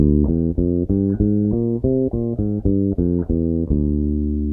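A bass guitar plays a Locrian natural 2 scale from D, a steady run of about a dozen deep plucked notes moving up and down at an even pace, loud and alone.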